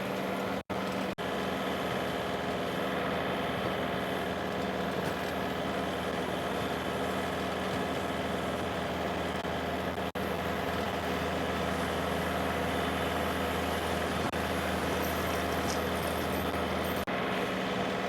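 Two John Deere 1025R subcompact tractors running 5-foot rear tillers give a steady, continuous engine drone with a low hum, loud and unbroken, with no talking.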